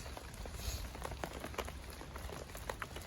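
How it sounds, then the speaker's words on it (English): Rain patters steadily onto a surface at a lake during a carp fishing session, close and dense, with individual drops tapping over a constant soft hiss. "I don't mind the rain."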